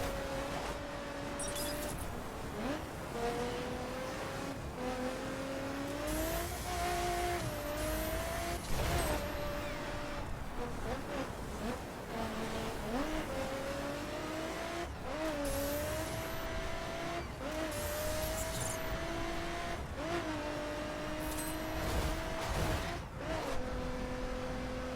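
Lotus Exige racing over dirt in The Crew, its engine note droning and rising through gear changes, with bursts of tire scrabble and gravel noise across a steady, continuous run.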